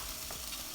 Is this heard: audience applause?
no